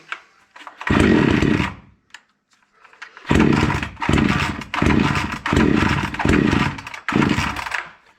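A Proyard 450 cut-off saw being repaired after failing to run: its small two-stroke engine starts, cuts out and then revs in about six loud, rasping bursts with brief pauses between them, close by, with no talking.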